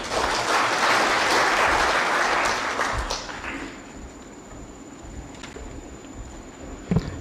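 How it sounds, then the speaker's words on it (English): Audience applause at the IEBC post-election evaluation report launch, a dense round of clapping that fills the first three seconds and then tapers off into quiet room noise. "a better round of applause for Mule"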